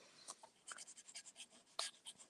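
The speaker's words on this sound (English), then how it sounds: "it makes me want to just make lines like this because it's so rare to find a nib on a Schaefer pen like this that can do this" Nib of a Shaefer fountain pen drawing lines on paper, a series of short, soft scratchy strokes in a steady back-and-forth rhythm, close and quiet with no talk.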